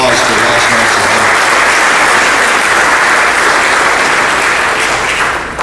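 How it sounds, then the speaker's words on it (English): Loud, dense applause from an audience filling a hall for the Dolphins, steady and sustained close by for several seconds before it tapers off. "Let's give the Dolphins a round of applause for last night's event."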